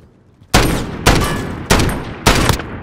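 Four loud, close gunshot bursts crack out in a video game firefight, spaced roughly half a second apart, each blast decaying with a short echoing tail.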